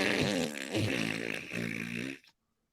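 A human voice imitates an Eopie fart from Star Wars with a long, wet, buzzing raspberry that wavers in pitch for about two seconds and then cuts off, loud and close.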